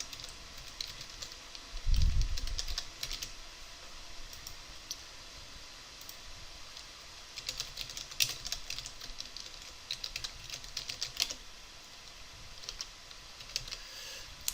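Scattered light key clicks from typing on a computer keyboard, soft and intermittent over a steady room hum, with a low thump near the start.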